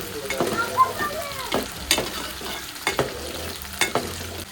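Masala sizzling in hot oil for a garlic kuzhambu, a soft constant crackle broken by several sharp scraping stirs of the spoon at uneven intervals, fairly close and with no talking.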